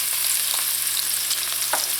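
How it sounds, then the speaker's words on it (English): Chopped onions frying in hot oil in a pot over medium heat, a steady close bright sizzle with faint crackles and occasional stirring scrapes. "To the oil, I'm going to go in with the onions."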